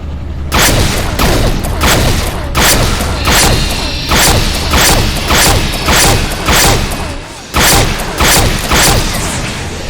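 Repeated explosions in a VR shooter as objects burst on contact, a loud, dense series of booming crashes arriving in a rough rhythm about every half second to second, close and continuous.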